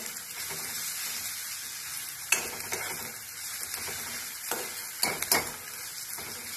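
Onions fry in a pan with a steady sizzle, with a few louder scrapes and stirs of a spoon against the pan near the middle and end.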